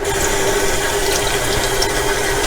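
Cold water gushing from a tap to rinse tie-dyed fabric, a loud steady splashing hiss up close, continuous for the whole moment with no speech.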